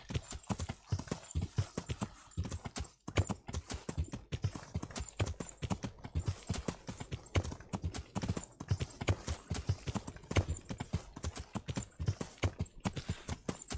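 Horse hooves clip-clop at a steady, continuous trot in the medieval game Kingdom Come: Deliverance, close and fairly loud throughout, with no talking over them.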